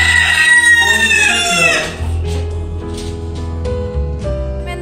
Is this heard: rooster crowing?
yes